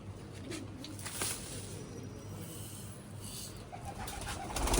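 Pigeons coo faintly at a pigeon loft, soft repeated calls under a steady background hum with no voices.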